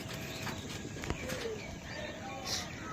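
Domestic pigeons kept at home coo softly nearby, with low, rounded calls against a steady noisy background.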